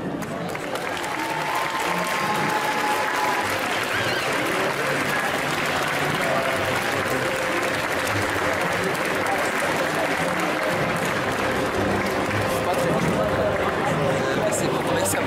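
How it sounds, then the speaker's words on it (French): Crowd at an indoor cosplay contest applauding a Poison Ivy cosplayer, a dense steady wash of clapping with some cheering and babble running loud throughout. "applaudir bien fort Nerikla en Poison Ivy"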